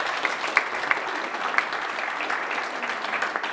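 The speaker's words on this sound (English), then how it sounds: "Give him a big round of applause." An audience claps at a health and wellbeing launch night, a dense, continuous round of applause with a few sharper individual claps standing out, heard alone.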